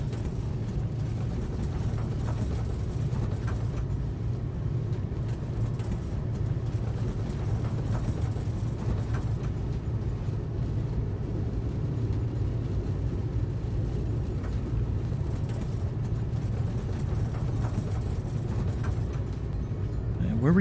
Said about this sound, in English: Kind of funny how I barely bring up the manifold pressure and the RPMs shoot way up